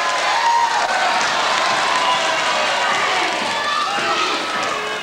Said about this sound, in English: The crowd shouting easy